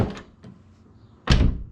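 A Genesis Coupe's door shuts with a muffled thunk, preceded by lighter handling clicks and knocks, then a heavier solid slam near the end, close and loud with no talking.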